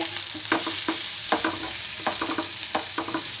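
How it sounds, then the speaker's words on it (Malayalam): Chopped onion sautés in a pan, a steady sizzle broken by repeated scraping strokes of a spoon roughly every half second, close and fairly loud with no voices. "ആ സവാള ഒന്ന് വാടി വരുന്നിടം വരെ നമുക്ക് ഒന്ന് ഇളക്കി കൊടുക്കാം."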